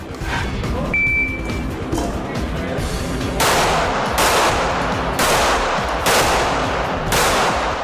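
Handgun shots at an IDPA backup gun national shooting match ring out as four loud, evenly spaced cracks with a short decay, following a few seconds of outdoor ambience.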